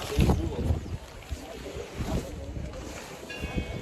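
Wind gusts across a foggy hilltop at Mount Abu, rumbling and buffeting the microphone in uneven bursts, loud at first and then easing.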